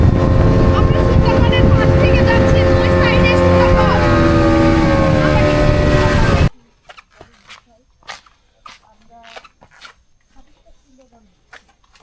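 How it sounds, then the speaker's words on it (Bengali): A speedboat on a Sundarbans tour runs with a loud, tonal engine whine for about six seconds, then cuts abruptly to a quiet scene with brief knocks and scattered speech. "এখনই আমাদের স্পিডবোট চলে যাবে সুন্দরবনের উদ্দেশ্যে"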